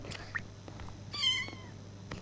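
A pet cat meows while being bathed indoors in soapy water. A short sharp mew comes first, then a longer, higher rising meow, both close and clear over a steady low background hum.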